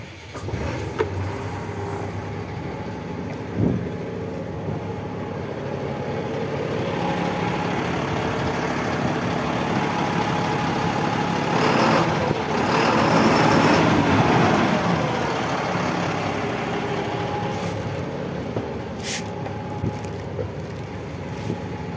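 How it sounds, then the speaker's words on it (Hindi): A Mahindra Blazo X49 BS6 six-axle, 16-wheeler truck diesel engine runs at idle after starting. A constant, loud rumble continues throughout, with a slight swell in the middle and some wind noise, with no speech. "अब इंजन को स्टार्ट कर इंजन के साउंड सुनाएंगे।"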